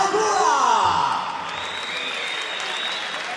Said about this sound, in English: Let me hear it for your champion, Marcin Tybura.